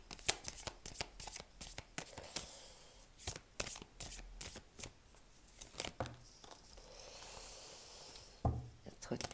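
Tarot cards are shuffled by hand in quick, crisp riffles and slides, close and fairly quiet, with short pauses between bursts and a brief soft knock near the end.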